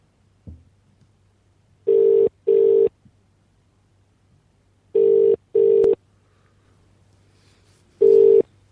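A telephone ringback tone sounds while a call goes through to Vodafone voicemail, playing loud paired beeps twice, then a single beep, over a low steady hum.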